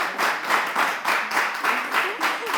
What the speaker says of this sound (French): Est-ce qu'on peut applaudir le pantalon bas et raccompagner Miss Martha?